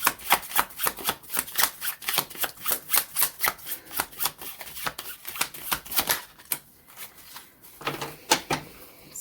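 A Donut Lovers deck of playing cards shuffled briskly, a rapid run of crisp riffling flicks that steadily pulse close up, slowing and thinning toward the end with no voices.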